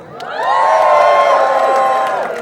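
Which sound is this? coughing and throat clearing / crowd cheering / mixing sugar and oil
crowd cheering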